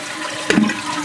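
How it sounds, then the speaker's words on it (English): Toilet with scale buildup and a slow-filling fill valve flushing: a sudden rush of water sets in halfway through and keeps swirling steadily, close and fairly loud, no voices. "So we'll give it a flush here."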